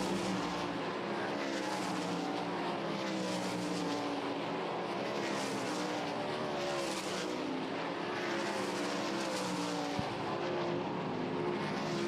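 Sprint cars on hot laps at Lakeside for a High Limit Sprint Series qualifying session, a continuous loud engine howl that rises and fades in regular waves as the cars circle the track.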